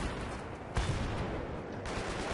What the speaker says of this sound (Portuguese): Quem que tá atirando em mim?